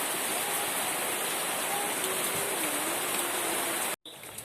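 Rain pours steadily in a rural provincial setting, a dense, even wash of noise for about four seconds before cutting off abruptly, with no talking.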